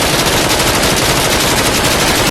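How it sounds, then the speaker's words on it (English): Modded VR shooter Contractors with gunfire extremely loud and continuous, rapid full-auto bursts packed into a dense roar that cuts off abruptly at the end. "Adding to the realism of this mod, the guns are so loud, it's kind of crazy."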